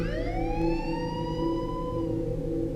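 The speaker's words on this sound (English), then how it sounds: "loud, wailing sirens that caught my eyes with their flashing reds and blues" Wailing emergency vehicle sirens rise and fall in a steady, loud, continuous tone with layered harmonics, close by and unbroken, with no voices.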